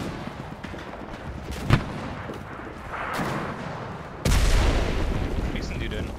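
Gunfire in the video game Enlisted: a distant crack, a muffled boom, then a heavy loud blast with a rumbling tail, while someone talks at times.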